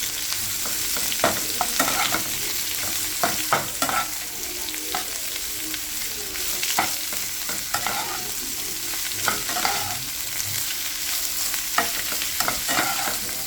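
Boiled cauliflower stirred into a hot frying pan of tempered spices, with steady sizzling throughout and repeated scraping clicks of a spoon against the pan.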